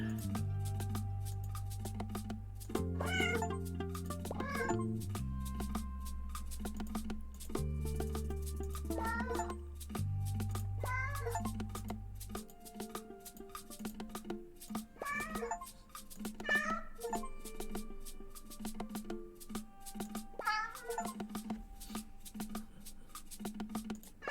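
Several brief cartoon meows from clicked cats in the hidden-object game 100 Cats, scattered across a long stretch of quiet looping background music with soft plucked and bass notes.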